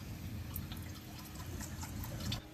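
Water mixed with oil trickles and drips from an engine plug on a salvaged Albin 36 boat in a steady, fairly quiet patter, with faint splashy ticks scattered throughout and no voices.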